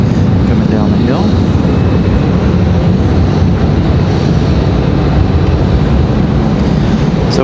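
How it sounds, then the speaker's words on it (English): An Airbus A320 airliner arriving at Raleigh-Durham International Airport, a loud continuous engine roar and rumble close by, steady throughout with a broadband whoosh and wind noise over it. "Here's our A320 from Minneapolis."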